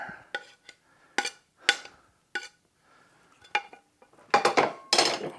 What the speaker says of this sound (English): I just rake it around just a time or two to get the butter covered with the flour